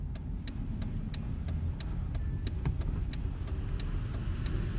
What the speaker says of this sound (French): en utilisant le clignotant droit